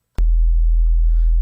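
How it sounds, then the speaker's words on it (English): A single deep, sustained synth bass tone, oscillator pitched down 24 semitones, starts abruptly and holds steady, low and thick, with a faint buzzy edge. "So now we've got a nice thick bass sound."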